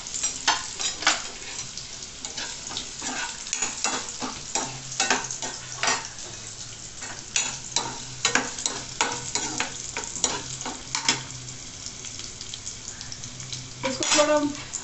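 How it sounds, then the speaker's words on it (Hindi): Carrots sautéing in a pan over a medium flame, giving a steady sizzle with frequent scraping stir strokes and spatula clatter close by, no talk. "इसको थोड़ा मीडियम फ्लेम पे हम लोग सौते कर लेंगे अच्छे से"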